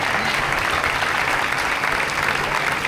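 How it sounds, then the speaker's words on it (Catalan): Loud, dense audience applause at an evening gala honouring a motorsport figure in Oliva, following an opening dance performance; steady clapping from a large crowd fills the whole moment without a break. "repetir aquest fort aplaudiment per a aquest magnífic inici que tenim avui així"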